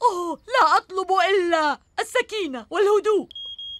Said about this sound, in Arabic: هذا صوت إنذار حريق